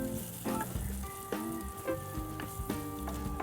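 Tofu fries in oil in a pan while being stirred, giving a steady close sizzle broken by repeated scraping stirs throughout.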